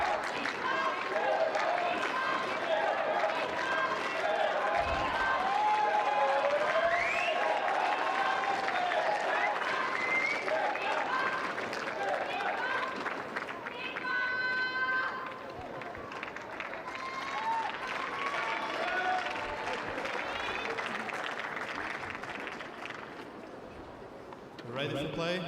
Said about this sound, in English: can hear the French supporters in the crowd there chanting for Stephane Houdet. And the Japanese supporters in response chanting Shingo's name.